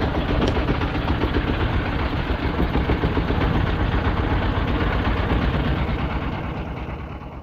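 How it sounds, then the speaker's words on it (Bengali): A fishing trawler's diesel engine chugs steadily and loudly on a river in the Sundarbans, with a rapid, rhythmic thump, fading slightly at the end. "নদীতে ট্রলার ছুটে চলছে"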